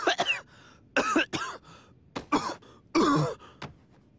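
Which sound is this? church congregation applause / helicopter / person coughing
person coughing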